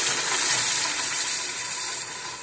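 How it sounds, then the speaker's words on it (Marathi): A masala paste of chili, tomato, garlic, ginger and onion fries in oil with a loud, dense, hissing sizzle that holds steady close up, then eases slightly near the end, with no talking. "पण ह्याच तेलामध्ये आता मसाला टाकूया, जो मिरची, टोमॅटो, लसूण, अद्रक, कांदा"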